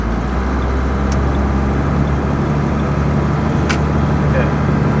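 A Cummins diesel pickup truck engine runs with a steady, loud low rumble close by, constant through the whole stretch, with a couple of faint sharp clicks.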